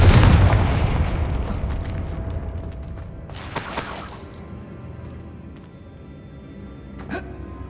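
A Confringo spell explosion in the Hogwarts Legacy game: a loud booming blast with shattering debris at the start, decaying into rumble, then a second sharp burst and a smaller crack later.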